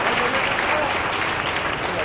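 Dense, continuous applause from a large crowd at a public political meeting in Jayanti Stadium, Bhilai, a steady wash of clapping with voices mixed in.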